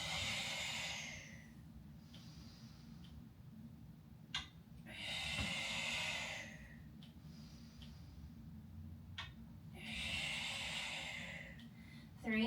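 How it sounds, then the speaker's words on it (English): Three long, breathy exhales, each followed by a quieter inhale, come at a steady rhythm during an ab exercise. The breathing is close and soft, with no other noise. "Exhale to pull. Inhale as we open."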